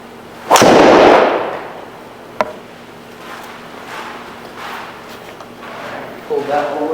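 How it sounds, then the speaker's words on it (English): A golf driver strikes a ball off the tee with one loud, sharp crack followed by a short rushing tail, then a lighter knock and quieter outdoor background, nearby and with no talking. "let's hit some drivers"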